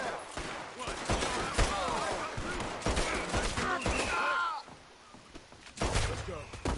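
Gunfire rattles through a shootout in the video game Red Dead Redemption 2, dense bursts of overlapping shots mixed with voices talking and shouting over the action.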